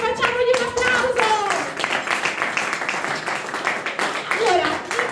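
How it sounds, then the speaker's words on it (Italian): An audience applauds Nicolò, the Italian national kayak champion: dense, sustained clapping that holds steady throughout, loud and close, with cheering voices rising above it. "Facciamogli un applauso!"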